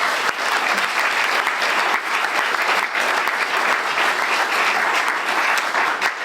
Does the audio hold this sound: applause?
yes